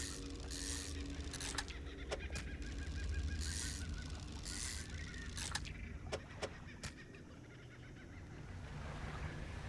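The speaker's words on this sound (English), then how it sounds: "That kookaburra?" Honking, cackling bird calls ring out, attributed to a kookaburra in the fishing video game Dredge, with short bursts rising over a low rumbling, watery game ambience and a few sharp clicks.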